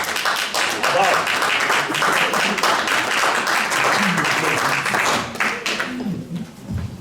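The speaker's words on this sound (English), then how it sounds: "A round of applause for him, please." An audience at an evening integration event applauds loudly and continuously, the clapping filling most of the stretch before thinning out as a voice begins speaking near the end.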